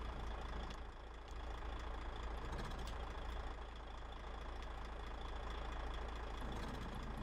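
A truck engine idles steadily in the off-road driving game MudRunner, set in the American Wilds, a low continuous rumble with slight knocking that holds even and loud with no speech over it.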